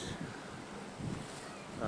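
Surf and wind on a Kauai beach in Hawaii: a steady broad wash of breaking waves with gusty wind buffeting the microphone, low and continuous, with no talk.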